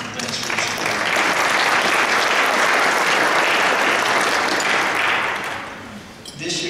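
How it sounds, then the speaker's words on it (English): A conference audience of several hundred attendees at an opening keynote session breaks into loud, sustained applause, a thick wash of clapping that holds for several seconds before tapering off, with a voice resuming at the end. "big round of applause to you guys"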